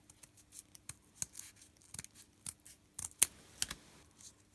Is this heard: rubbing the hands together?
no